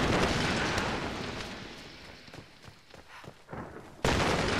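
An explosion in the Tomb Raider video game roars loudly, then fades into crackling debris and scattered pops before a second loud blast hits near the end.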